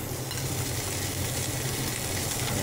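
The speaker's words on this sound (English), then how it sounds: "we'll just sear them up really quickly" Sliced sous-vide pork belly sears in a hot pan, a steady dense sizzle of rendering fat that stays loud and even throughout, with no voices.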